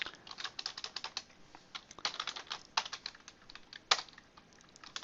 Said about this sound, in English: So I can start typing in my tags.